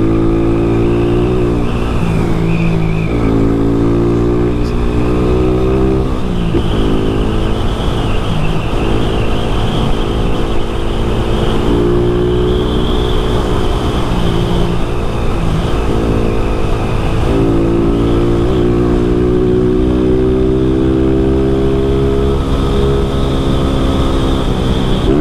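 Honda Fan 160 motorcycle fitted with a Dore exhaust, loud and close, its engine revving repeatedly in rising and falling surges over a continuous raspy idle, no speech.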